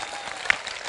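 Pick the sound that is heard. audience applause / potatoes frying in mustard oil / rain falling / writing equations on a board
audience applause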